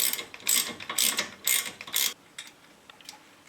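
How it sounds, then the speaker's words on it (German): The wedge bolt on a Porsche 911 SC suspension being loosened with a ratchet, heard as several close bursts of rapid metallic clicking separated by short pauses, then trailing off into quieter, scattered ticks. "wir machen hier oben die sogenannte Keilschraube auf"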